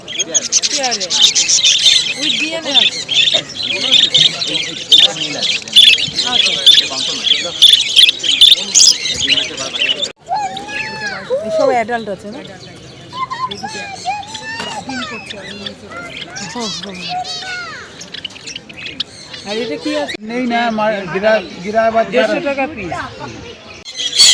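Assorted colourful birds at a Dakshineswar pet market in Kolkata chirp and tweet busily for the first ten seconds, then grow sparser as people talk nearby.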